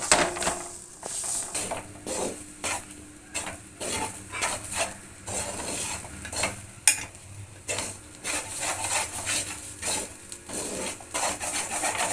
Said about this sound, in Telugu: ఇలా ఒక కడాయిని అయితే వేడి చేసుకొని ఇందులో ఈ పచ్చి కొబ్బరిని అయితే వేయించుకోవాలి